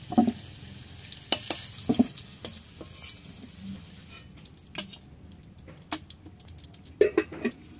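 Onions fry in oil for a village-style Bengali chicken kosha, with soft sizzling under scattered sharp clatters and stirring knocks from a utensil, fairly close and otherwise quiet.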